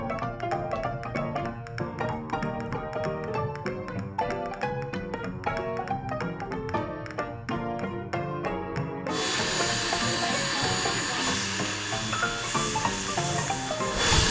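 Durango & Silverton steam train venting steam: a loud, steady broadband hiss bursts in about two thirds of the way through and carries on to the end, following rhythmic mechanical clanking.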